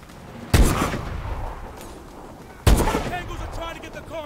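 Two loud, sharp gunshot blasts in Call of Duty: Advanced Warfare, each followed by a long decaying rumble, spaced about two seconds apart over a steady combat background.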